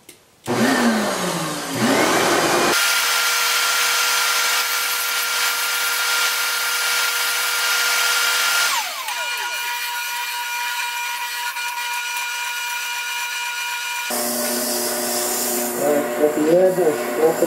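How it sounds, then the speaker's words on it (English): Spindle sander sanding the inside of wooden turned napkin rings, a loud steady motor whine with a shifting pitch and occasional rougher grinding as wood contacts, continuous and close, with a person talking. "And then I use the spindle sander down here to do the inside of it."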